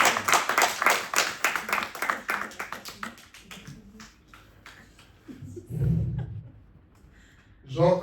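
A church congregation claps in quick, rhythmic unison to acclaim the Lord. The clapping is loud at first, then fades out, leaving scattered voices and a brief murmur.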